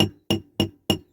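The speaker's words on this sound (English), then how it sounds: "I get my trusty hammer and just tap round it" A hammer taps lightly around a Dinky Toys Triumph Herald diecast toy car during restoration, four sharp, evenly spaced metallic knocks with short ringing decays, close and alone.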